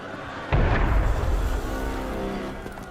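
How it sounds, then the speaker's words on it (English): Cannon fire in the video game Assassin's Creed Unity, set on Bastille Day: a single loud booming shot that decays slowly over a dense battle-like background, with no talk. "Sometimes opportunity sounds a lot like cannon fire."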